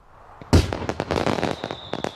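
Gunpowder fireworks burst with a sharp initial bang followed by a rapid, crackling series of pops and sizzles, loud and close, with a faint whistle trailing near the end.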